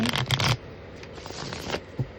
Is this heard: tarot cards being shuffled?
yes